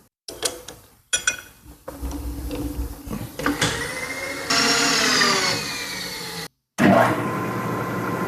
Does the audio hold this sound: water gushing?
no